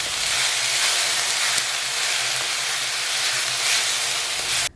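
Garlic and chopped onions fry in a pan with a loud, continuous sizzling hiss that holds steady before cutting off abruptly at the end.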